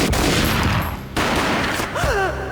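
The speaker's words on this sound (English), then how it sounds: "A gunshot boomed and she fell down in slow motion." Gunfire from the video game Max Payne booms in a quick burst of shots, loud and close, followed by a sharp cut and a short rising whine under continued noise.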